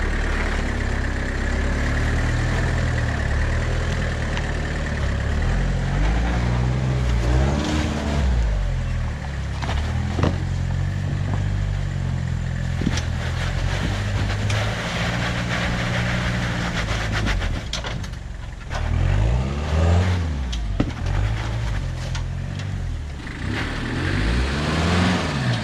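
A first-generation Toyota 4Runner on 33-inch tires crawling in low range with 4.7 reduction crawler gears, its engine idling low and rising and falling in slow, rumbling revs, close and steady throughout.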